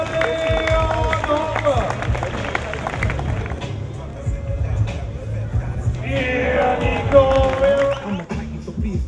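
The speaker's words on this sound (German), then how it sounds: "Leute, nochmal Applaus für Mr. Leon" Spectators at a BMX street jam in Bielefeld clap and cheer for a rider, a burst of crowd applause mixed with hubbub, music and a speaking voice over a busy outdoor background.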